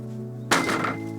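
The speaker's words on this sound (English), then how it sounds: "I bet if you pick that up and drop it down" A dense, overproofed loaf of bread, heavy as a brick, dropped onto a surface, landing with a single sharp thud after a moment of quiet, followed by a brief dull rattle.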